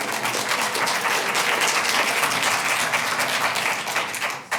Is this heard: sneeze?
no